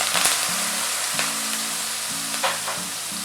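Two kinds of lentils brown in hot oil with chili for spicy garlic rice, a bright close sizzle with a few stirring clicks, over a steady tonal background hum.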